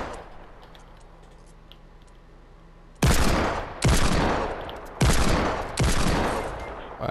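Gunshots in Fortnite Battle Royale, four heavy, booming shots evenly spaced after a quiet stretch of low game ambience, each ringing out and decaying, loud and close.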